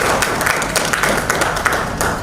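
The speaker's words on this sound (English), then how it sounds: "Can we give him a round of applause?" An audience at a tech conference bursts into loud, dense applause, many hands clapping at once in a continuous close wash with no talk.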